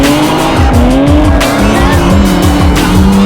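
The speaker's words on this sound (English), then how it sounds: "Time to go drifting, baby." A car drifting with loud, sustained tire squeal over a revving race engine whose pitch rises and falls in repeated sweeps, close and continuous throughout.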